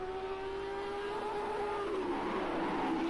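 A Lamborghini race car engine at Brands Hatch in Project CARS 2, holding a steady, droning tone that shifts pitch as it changes speed, loud and continuous with no other sound over it.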